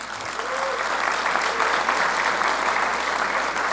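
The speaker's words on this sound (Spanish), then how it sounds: "Un aplauso a los compañeros." Sustained applause from a large audience at the opening ceremony of an international transport congress, dense even clapping rising quickly and holding steady throughout, with faint voices mixed in.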